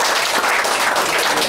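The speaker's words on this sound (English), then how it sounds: "Let's give Tommy a round of applause." Audience applause at a breakfast meeting, a steady dense wash of clapping that holds evenly for the whole moment without pause.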